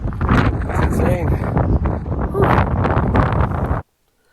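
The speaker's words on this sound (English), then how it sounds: "It's way too windy." Strong wind on a kayak crabbing trip batters the microphone in loud, continuous gusts, with a person's voice partly buried underneath, then cuts off abruptly.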